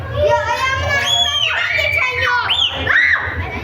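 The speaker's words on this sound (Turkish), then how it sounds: "Ayağımızın altından böcekler geçiyor diye çığlık atıyoruz şu an." Children and adults scream and shriek at projected virtual bugs crossing the floor in an indoor biodiversity exhibit: high, overlapping, wavering shrieks over a noisy crowd babble, close and loud.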